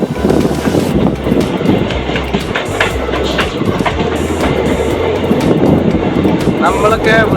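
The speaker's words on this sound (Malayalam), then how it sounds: "ശരിക്കും ട്രെയിനിൽ സ്പീഡ് പോയിക്കൊണ്ടേ ഇരിക്കുകയാണ്." A passenger train runs at speed between Palakkad and Shoranur, giving a steady loud rumble with rhythmic wheel clatter and occasional squeals throughout, while people talk nearby.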